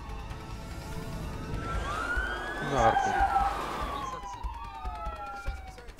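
Police sirens in the video game A Way Out wail loudly, their rising and falling tones overlapping over engine and street noise. Someone speaks briefly over them.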